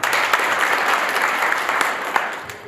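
An audience at a community youth development event claps in sustained, dense applause that holds steady and fades slightly toward the end.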